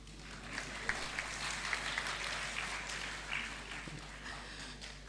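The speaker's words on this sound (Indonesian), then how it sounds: "Tepuk tangan." An audience at an academic inauguration ceremony claps steadily in a large hall, a sustained patter of many hands at moderate volume with no voices over it.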